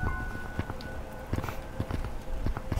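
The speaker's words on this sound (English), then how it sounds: "I keep hearing footsteps." Footsteps in a horror video game, a series of irregular thuds and taps over a humming background, fairly close and continuous, alone without talking.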